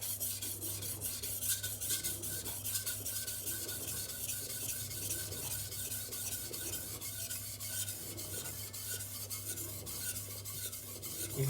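A cleaver is stroked steadily across a silicon carbide whetstone to raise a burr, giving a continuous close gritty rasp with a regular back-and-forth rhythm and no talking.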